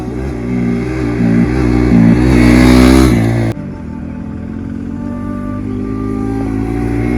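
A Mafiya 250 motorcycle engine revs loud and close, rising in pitch over a few seconds, then cuts sharply back to a lower, steadier running note.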